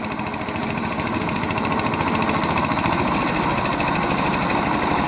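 A jugaad fodder reaper machine built around a 7 HP diesel engine runs steadily and loudly up close, its rapid chugging beat continuous throughout without pause or talk.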